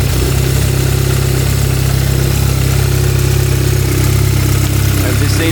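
A modified R700 engine idles roughly and unevenly after fitting bigger injectors that have not been mapped yet, a steady loud rumble that holds throughout with no break.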